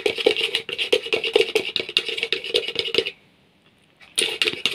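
Screen printing ink being stirred in a container, a quick run of scraping clicks and taps from the mixing tool against the vessel, close and continuous, pausing briefly before resuming.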